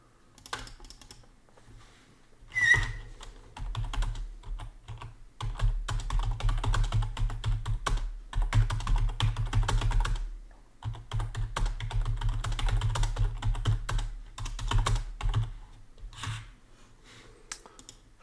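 Typing on a computer keyboard indoors, bursts of quick, close key clicks that start and stop in several runs with brief pauses between them, no voices.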